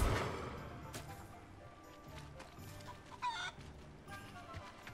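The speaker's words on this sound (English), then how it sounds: "The chicken." A chicken in Hogwarts Legacy clucks a few times against a quiet game background, with soft scattered calls rising briefly near the end.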